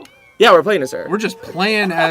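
A cat in The Sims 4 gives a couple of short, close, clear meows that overlap with people talking.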